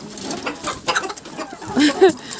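A rooster's clucks and short calls sound close by over background chatter and laughter, a couple of brief vocal bursts near the end.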